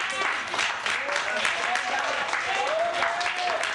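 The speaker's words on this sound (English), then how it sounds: "For Dr. Simpson, let's give a little good clap, praise for her." A church congregation applauds inside a revival tent, a steady wash of clapping that fills the whole stretch while a voice speaks over it.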